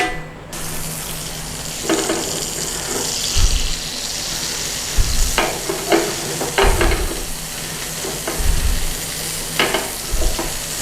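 Butter melts and sizzles in a cast iron pan, a steady frying hiss broken by occasional clattering stirs and scrapes, with no talk.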